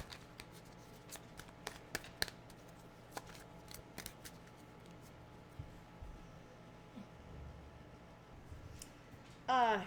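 Playing cards are shuffled in a quiet room, with a series of sharp flicks and riffles spread through the clip, faint and close, ending in a brief louder burst.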